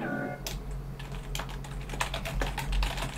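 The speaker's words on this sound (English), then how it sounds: "the reason why I'm typing in chat" Rapid typing on a computer keyboard, a close burst of uneven clicking keystrokes over a low steady hum.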